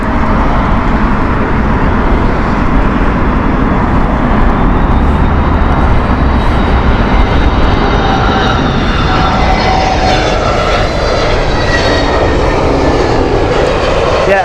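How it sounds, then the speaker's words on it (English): A British Airways Airbus A320neo airliner roars loudly and close at a windy airport, a dense sustained jet noise with rising whining tones in its second half, no voices. "This is A320 Neo."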